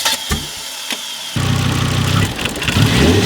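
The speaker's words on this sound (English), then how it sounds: "That's a big ass turbo." A Volvo engine fitted with a big turbo starts and runs nearby, a loud steady mechanical roar and rumble with rising revs after a few short clicks.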